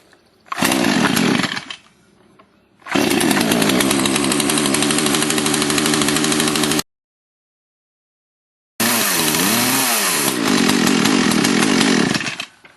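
A gas-powered tool with a choke is pull-started: a brief cough, then the small two-stroke engine buzzes loudly in several bursts, cutting out into silence before firing up again and revving unevenly.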